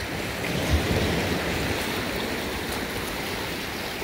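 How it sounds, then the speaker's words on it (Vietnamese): Ocean waves crash and wash against a rocky shore on the California coast, a loud continuous roar of surf and spray with gusting wind, no voices. "hơi nước á, sóng đánh á, dạt vào á"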